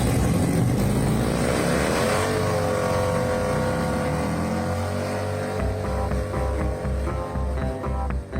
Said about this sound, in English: we're going to get under the hood and see if we got this thing to run right